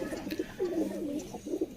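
Close pigeon cooing at a keeper's loft, with a gliding, rolling coo repeated several times in a steady, moderately loud rhythm.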